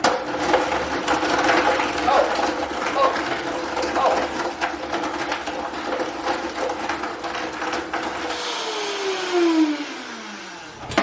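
A Vitamix blender churns vegan banana bread batter, a loud continuous motor whir with changing strain, then winding down in pitch near the end while a voice speaks over it.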